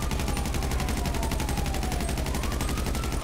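Sustained rapid automatic fire in GTA 5 Online, a steady unbroken stream of loud, closely spaced shots lasting the whole stretch at even intensity, with a faint rising tone threading through behind it.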